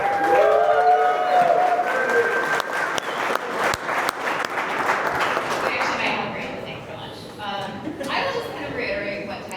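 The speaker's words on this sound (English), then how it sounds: "so let's give Kristen a round of applause." A conference audience applauds steadily, loud and sustained throughout, with some voices mixed into the clapping as the applause gradually thins toward the end.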